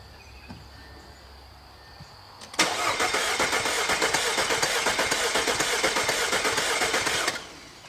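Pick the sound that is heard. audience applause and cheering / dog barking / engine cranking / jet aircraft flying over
engine cranking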